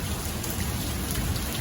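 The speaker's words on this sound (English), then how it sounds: "raining quite a bit, and we'll check it just a little later to see how it holds out." Heavy rain pours steadily onto a Lanshan 2 tent, a dense, even hiss of countless drops with no pauses and no voices.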